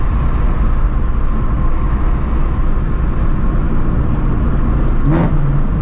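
A Shelby GT350 V8 pulling under a slight acceleration from inside the cabin, a loud steady engine drone with road roar throughout and a brief rising whine near the end.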